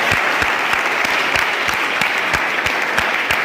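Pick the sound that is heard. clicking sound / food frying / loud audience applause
loud audience applause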